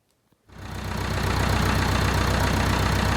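A Volvo 2254 4WD log hauling tractor on an icy mountain road starts up after a brief silence, settling into a loud, steady diesel idle with a rhythmic low throb, close by.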